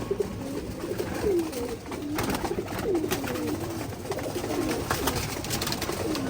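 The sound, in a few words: racing pigeons cooing in their loft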